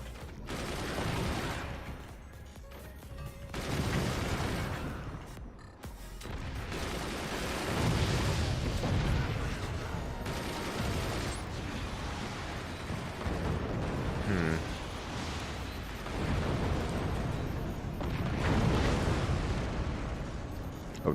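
Heavy, continuous barrage of weapon fire and booming explosions striking forts in the strategy game Forts, loud and sustained with dense overlapping blasts.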